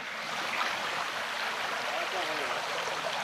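Water rushing at Machkanda falls in Purulia, a steady broadband roar of falling water and stream flow that stays constant and fairly close throughout, with no talk over it.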